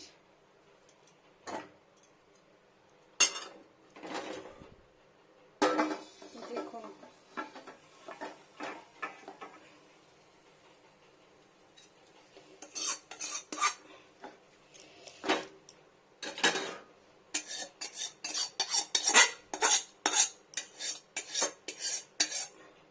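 Potato and pointed gourd curry is scraped out of the pan into a serving dish. A spoon clinks and taps repeatedly against the metal cookware in irregular bursts, sparse at first, then quicker and denser toward the end.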